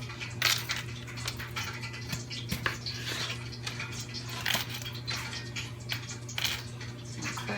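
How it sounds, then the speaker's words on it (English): A knife cuts through big raw potatoes on a board for homemade fried potato wedges, giving a series of sharp, close chopping knocks spaced every second or so over a steady low hum. "But just slice them up."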